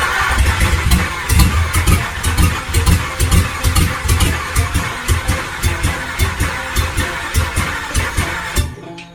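A 1965 Chevy rat rod's 283 V8, short on fuel, cranks and fires in uneven pulses, a loud, close, rough engine churning steadily for about nine seconds before cutting off abruptly.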